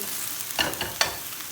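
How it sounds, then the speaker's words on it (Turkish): A steady sizzle of eggplant frying in hot oil over high heat in a pot, with a few soft scraping stirs over it, close and continuous. "Yüksek ateşte patlıcanları kavurma işlemine devam ediyoruz."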